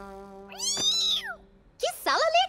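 A cartoon kitten meows twice, a long sliding cry followed by a shorter high one, close and clear in a quiet room.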